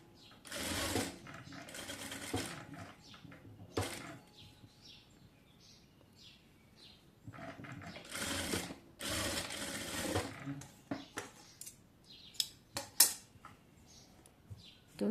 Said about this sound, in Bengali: আমি একটি চাপ সেলাই দিয়ে দেব।